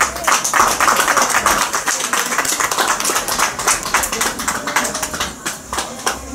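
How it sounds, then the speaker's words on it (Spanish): Guests at a quinceañera celebration in Tarapoto applaud loudly, a dense, brisk patter of many hands clapping close by, sustained without pause. "Recibamos con fuertes aplausos"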